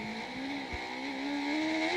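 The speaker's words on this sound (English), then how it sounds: "There you hear the wheel spin." Race car wheel spin at the 2002 CART Surfers Paradise street race, a high engine whine rising steadily in pitch as the car accelerates, moderately distant, with no talk.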